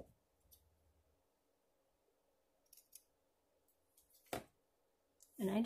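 Scissors snip a small piece of shimmery ribbon for card making: a few quiet crisp cuts and clicks spaced apart in a near-silent room, ending in a louder rustle close by.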